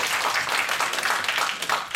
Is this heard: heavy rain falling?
no